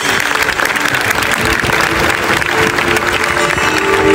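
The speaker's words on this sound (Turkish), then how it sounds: "bir alkışlar var" Concert audience at an arena show applauding steadily and loudly, a dense, sustained wash of clapping from a large crowd throughout.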